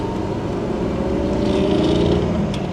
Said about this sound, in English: You've got a straight inline-six. It's purring right along